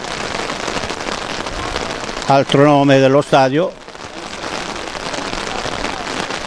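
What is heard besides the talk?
rain falling on a football stadium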